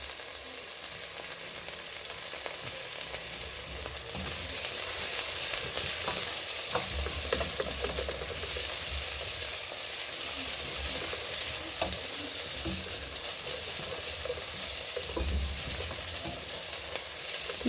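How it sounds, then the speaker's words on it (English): Ginger and garlic sizzle steadily in a hot pan throughout, with the scrape and clatter of stirring recurring at intervals and no talking. "going to add my ginger and garlic. Give them a good stir, and make sure you give it a good stir because they tend to burn"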